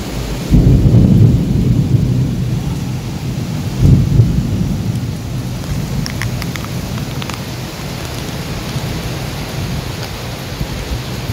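Steady rain pours down while deep rumbles of thunder roll in twice early on, loud and close, then the downpour continues alone.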